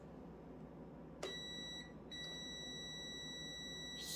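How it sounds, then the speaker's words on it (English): Multimeter continuity beep while testing an air conditioner contactor, a faint steady high-pitched tone that sounds after a click, pauses briefly and resumes over low background hum. "We're supposed to hear beef."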